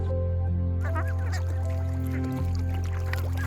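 Ducks in a rice field quacking and honking in a lively cluster over a constant low droning hum, with a few overlapping calls rising and falling.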